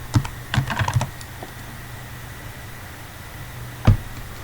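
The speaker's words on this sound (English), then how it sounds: "Suppose I am typing a computer." Keystrokes on a computer keyboard: a quick burst of several clicks at the start, then a pause with faint background hiss and a single louder keypress near the end, close and clear.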